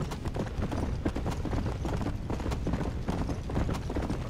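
A horse gallops in the Red Dead Redemption: Undead Nightmare video game, its hooves drumming in a fast, steady, continuous rhythm at close range and moderate loudness, with no voices.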